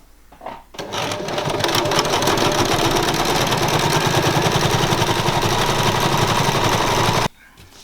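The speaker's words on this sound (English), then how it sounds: "let's get this bag all sewn up" A sewing machine runs continuously while stitching a boxy tote bag, a close, loud rapid mechanical whir that starts after a brief pause and stops abruptly near the end.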